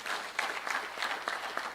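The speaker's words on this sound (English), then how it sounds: "Can we applaud that?" A conference audience at a provincial teachers' union gathering breaks into sustained applause, a dense, steady wash of many hands clapping close and fairly loud for the whole stretch.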